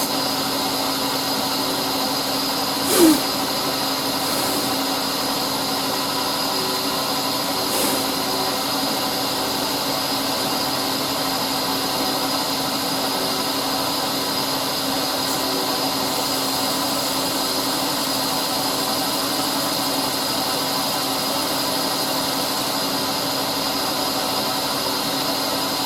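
A glued-up segmented wood pen blank is drilled gently, giving a steady, even mechanical drone with a constant whine that holds for the whole stretch, broken only by a couple of faint knocks and no voices.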